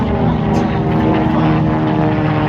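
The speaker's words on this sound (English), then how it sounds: "This final Avenger coming off the runway was accepted by the United States Navy August 4th," A Grumman Avenger propeller aircraft takes off from the runway at an air show, its loud, close radial engine roaring steadily throughout the short stretch.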